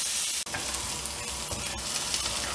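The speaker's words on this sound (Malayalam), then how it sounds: "ഇഞ്ചിയും വെളുത്തുള്ളിയും കൂടി നമ്മൾ ചതച്ച് വെച്ചില്ലേ, അതും കൂടി ഇട്ടിട്ട് ഒന്ന് വഴറ്റിയെടുക്കാം" Crushed ginger and garlic sauté with fennel seeds in hot oil for a chicken kondattam, giving a steady close sizzle with scraping stir strokes. One brief dip in the sound comes early on, and no one speaks.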